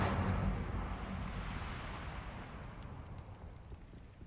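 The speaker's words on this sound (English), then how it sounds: "I'm here to light your books on fire" A fire spell sets a stack of books alight in Hogwarts Legacy, a loud whooshing burst of flame that settles into a steady roaring crackle, fading slightly over a few seconds with no talk.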